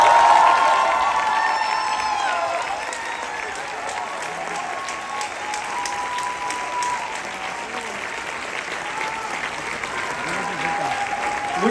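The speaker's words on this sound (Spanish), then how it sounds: "queremos pedir un aplauso estruendoso para nuestro señor productor, el señor Juan Torres." Loud, sustained applause from a large theatre audience at a 100th-performance celebration fills the whole stretch, steady and dense with scattered cheers mixed in.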